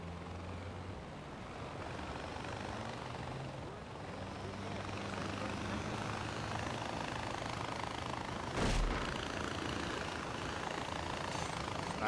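Aircraft engine in the Far Cry 4 video game, a steady droning rotor-like hum that holds at a constant level for the whole stretch, with someone speaking over it.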